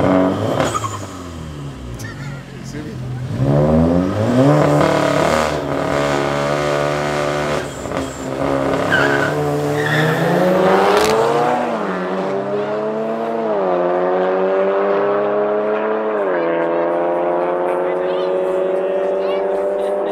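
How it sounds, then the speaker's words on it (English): A Golf 7R and a Mercedes A45 AMG street racing in Johannesburg, engines roaring loudly as they climb through the gears, with a tire squeal and a revving rise, while voices talk over the noise. "So next up is a Golf 7R going up against the A45 AMG."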